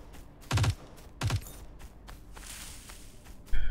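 Two gunshot bursts from a sniper rifle in the Dysterra survival video game, each a short heavy crack with a rumbling tail, spaced about 0.7 s apart, followed by quieter clicks and a final louder impact near the end.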